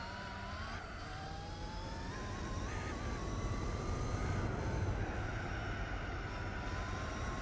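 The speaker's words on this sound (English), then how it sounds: "some of the best, like, car sounds out there." A car engine in the racing game Gran Turismo 4 drones steadily at a constant pitch, a continuous, fairly quiet whine and rumble with gentle shifts in tone and no talking.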